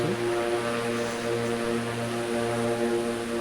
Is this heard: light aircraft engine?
yes